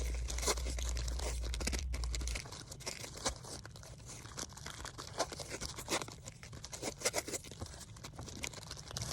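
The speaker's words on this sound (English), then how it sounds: "We get to tape it all together now." Tape being torn and stuck down while assembling an alebrije skeleton, a steady run of crinkly ripping and crackling bursts close up with no talk.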